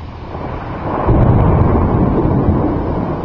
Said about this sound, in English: But the big thunder is still there.